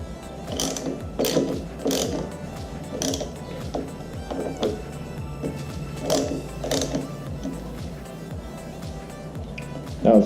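A ratchet tightens the mirror mounts on a Honda Sabre cafe fighter motorcycle build, its rapid pawl clicks repeating in steady bursts, close and clear, with no talk over it.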